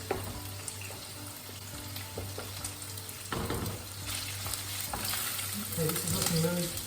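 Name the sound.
bacon frying in a pan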